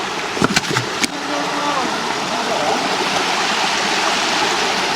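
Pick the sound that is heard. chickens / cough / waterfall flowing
waterfall flowing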